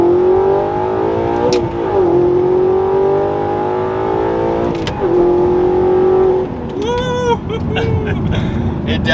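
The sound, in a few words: Audi R8 with Fi active exhaust accelerating, pedal to floor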